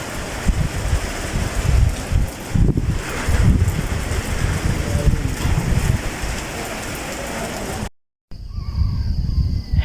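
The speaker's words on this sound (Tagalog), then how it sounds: "sobrang lakas ng hangin niya. Lakas ng hangin, guys." Strong wind roars and buffets the microphone on a mountain top at Viewscape Nature Park in Tanay, Rizal, in loud, gusting bursts, broken by a brief silent cut before the blustering resumes.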